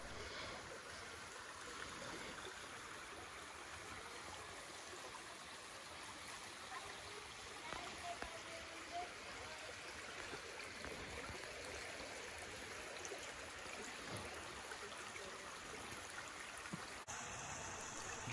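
Water from a stream in Devil's Eyebrow Natural Area flows steadily with a soft, even rush and trickle, sounding close and continuous with no voices.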